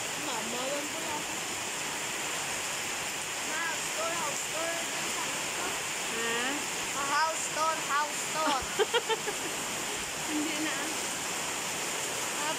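Steady heavy typhoon rain pouring down with a constant hissing roar, while people talk intermittently underneath it.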